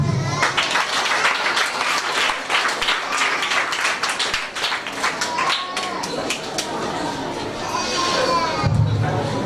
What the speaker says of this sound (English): So you can give your PTA a clap.